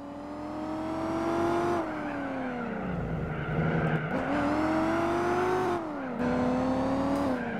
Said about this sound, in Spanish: le han recuperado el sonido a este coche y se escucha con el Supercharger